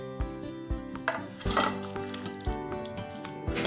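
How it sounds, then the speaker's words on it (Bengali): Pumpkin, potato and rui fish curry is poured and ladled from the pot into a bowl, with repeated metallic clinks and soft wet sloshes at a close, moderate level. "এবার আমাদের মাছের ঝোলটা রেডি হয়ে গেছে, আমরা একটা পাত্রে ঢেলে নেব।"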